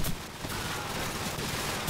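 Gunfire in Call of Duty 4, a loud crack at the start followed by a continuous noisy wash of shots and battle sounds, with faint repeated pops underneath.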